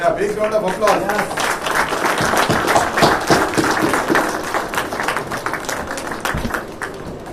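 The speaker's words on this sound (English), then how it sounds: "big round of applause." An audience at an inauguration event claps in a loud, sustained round of applause that blends with nearby talking and cheering voices, then thins out and fades toward the end.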